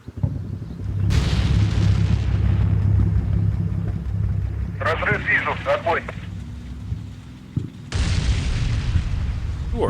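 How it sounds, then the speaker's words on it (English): Artillery rounds explode in the war video game Combat Mission, with deep rumbling booms and a rolling roar, brief sharp crackles in the middle, and a renewed heavy blast toward the end. "Ooh, artillery rounds."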